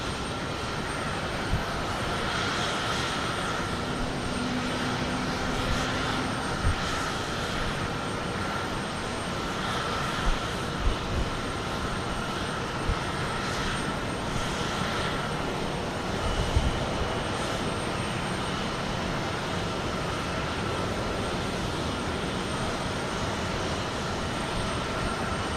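An Airbus A321neo jet at Houston Intercontinental Airport, producing a continuous, steady broadband engine roar at moderate distance. The sound persists for the whole stretch with little change in level and light wind noise.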